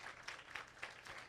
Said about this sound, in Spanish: vamos a dar un aplauso de bienvenida